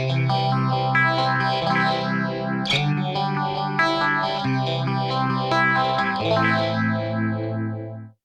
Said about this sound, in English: The script phase sounds really nice.